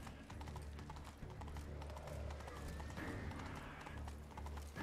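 Horse hooves clip-clopping at a steady riding rhythm in The Witcher 3: Wild Hunt – Blood and Wine, continuous and close over game background sound.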